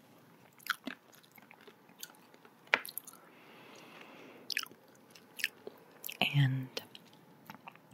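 Close-up chewing of a crunchy USA-made protein snack, soft wet bites and crunches spaced through the clip, with a brief whisper and a louder crunch near the end in a quiet room.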